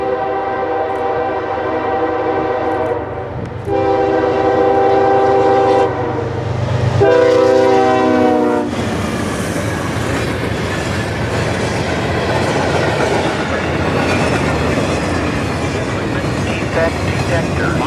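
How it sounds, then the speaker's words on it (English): A CSX manifest freight train bound for a Chicago yard passes close by, its horn sounding in several loud blasts before the heavy rumble and clatter of wheels and cars takes over and continues steadily. "Tailgating close behind the bomb train is CSX M565, daily manifest for Bar Yard in Chicago, Illinois"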